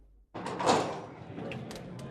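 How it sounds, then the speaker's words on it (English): A tavern door swings open with a short creak and rattle after a brief quiet, followed by soft room noise and a few faint clicks. "At 7 p.m., the door of the tavern opens."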